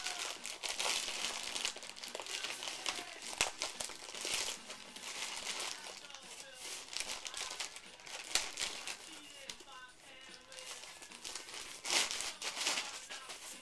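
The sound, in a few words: tearing open tape on a package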